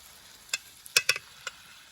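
Spiced poultry leg curry being stirred in a pan, a handful of quick spoon taps and scrapes over a faint low sizzle, short and close.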